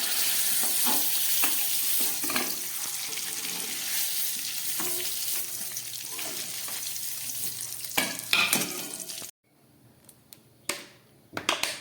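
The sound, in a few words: paneer frying lightly in oil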